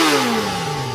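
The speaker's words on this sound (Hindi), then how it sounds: "बाइक की आवाज।" A motorcycle engine revs as a sound effect in a horror story, one loud close rising-then-falling drone whose pitch sweeps steadily downward over about a second with no voices.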